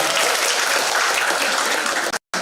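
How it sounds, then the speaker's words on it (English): Big round of applause from a seminar audience at a community public health event, dense steady clapping filling the room, then a sudden brief cut near the end. "big applause"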